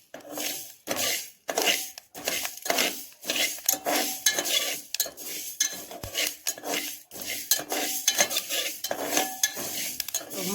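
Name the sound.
fenugreek seeds being roasted and stirred in a pan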